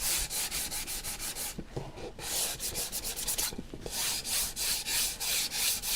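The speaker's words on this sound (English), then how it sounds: "So I'm going to give this surface a light sanding." Steady rhythmic scraping of sandpaper rubbing back and forth over wood, close and continuous with two short pauses.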